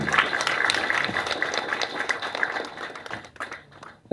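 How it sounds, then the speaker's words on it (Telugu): An audience claps for the film team at a press meet for the Telugu movie Thearachaapa, a dense, steady burst of many hands that thins out and breaks into scattered claps near the end. "and a big clap for them"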